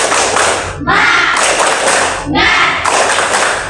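A classroom of students standing for a rhythmic spirit clap, loud close bursts of many hands in bunched patterns separated by brief pauses, with voices mixed in.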